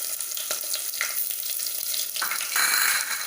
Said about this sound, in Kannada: ಚೂರು ಸಾಸಿವೆ ಪಟ ಪಟ ಪುಡವಡು